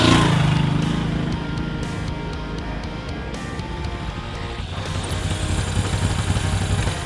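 A Moto Guzzi V7 Stornello motorcycle riding along a desert road near Slab City, a steady engine drone mixed with heavy wind rush, continuous and fairly loud throughout.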